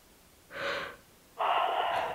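Group of people in a class yawning aloud, with two breathy, drawn-out yawns, the second louder and longer, close and with no talking.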